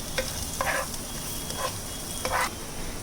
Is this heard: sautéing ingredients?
yes